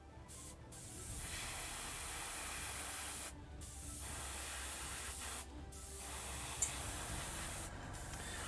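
Airbrush spraying paint onto Khorne Daemon miniatures, a steady close hiss running almost continuously with three short pauses where the trigger is released.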